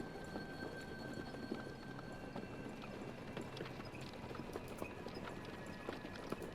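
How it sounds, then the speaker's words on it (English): Horses clip-clop steadily as they pull a carriage away in the video game Black Book, a brisk, even hoof rhythm over a soft background hum, with no talking. "strikes the horses. The carriage drives away."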